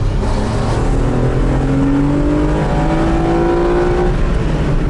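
A Renault Clio V6 engine, about fifteen years old, drones loudly from inside the cabin while driving, its pitch climbing steadily as the car accelerates, with no talking.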